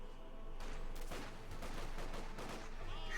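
Stormtroopers firing on enemy units in Company of Heroes 2, a dense burst of overlapping rifle and machine-gun fire that keeps going across the whole moment with heavy battlefield noise.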